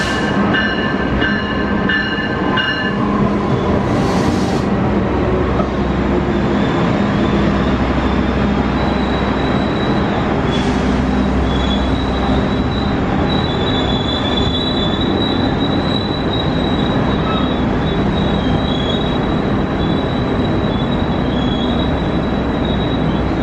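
An Indonesian passenger train of 13 modified economy cars hauled by a plain locomotive rolls past loudly, wheels squealing with high metallic tones and a continuous rumbling roar over the full length of its passing.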